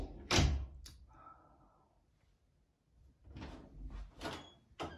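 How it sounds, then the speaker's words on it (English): A closet door swings shut with a solid thunk near the start, then a quieter knock follows, and a few more dull bumps and handling noises come later in a small indoor space. "If you turn that off and you close the door"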